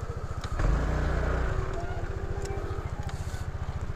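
A motorcycle engine idles close by with a steady, rapid low throb that holds for several seconds, a brief louder surge near the start, on a roadside during a road-rage incident.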